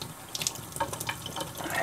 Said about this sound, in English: Let's turn the water back on here.